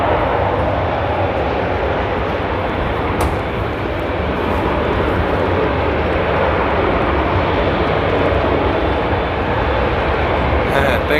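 A DHL cargo aircraft taxiing at Amsterdam Airport, a continuous broad jet-engine roar and hiss holding steady at high level for the whole stretch, with no clear changes and no voices.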